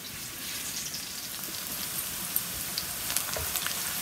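Onions frying in hot oil for a chicken rezala make a steady, close sizzle: a dense, even crackle with scattered louder pops and no talking.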